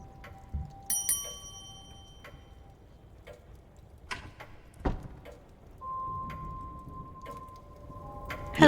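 A bell rings in The Séance of Blake Manor, a game set in a manor. Several clear metallic rings with sustained tones sound among ticking and clicks, with no voices.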